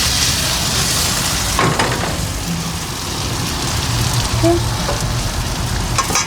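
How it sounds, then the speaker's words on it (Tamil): Onions frying in oil over low heat until golden, a dense, even crackling sizzle heard close up and alone, with a few faint knocks partway through. "இந்த கோல்டன் கலர் வரணும்னா நீங்கள் லோ ஹீட்டில் வச்சு தான் அந்த ஒனியனை ஃப்ரை பண்ணணும்"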